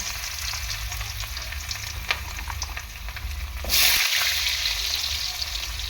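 Potatoes frying in a pan of hot oil for a bottle gourd and prawn curry give a steady close sizzle, with a louder burst of spitting near the end as the pieces are stirred.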